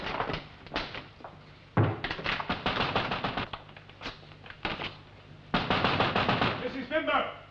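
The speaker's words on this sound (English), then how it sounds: "Oh, open it before he knocks the door down." Loud, rapid bursts of knocking on a shop door, several hammering rounds spread through the scene with brief pauses between them, while people talk over and around the banging.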